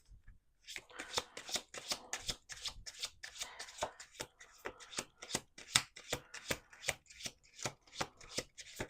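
A deck of cards is shuffled by hand, a rapid run of crisp riffling bursts repeating in quick rhythm, close and clear with nobody talking.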